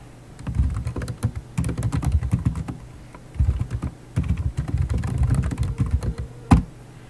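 Form instructions typed on a computer keyboard, heard as close, quick runs of key clatter in two main bursts separated by a short pause, ending with a single louder key thump, no speech.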